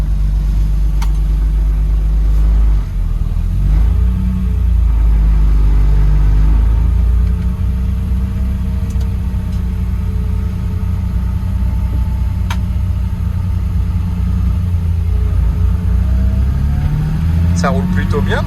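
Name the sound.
BMW E30 330i engine running after restoration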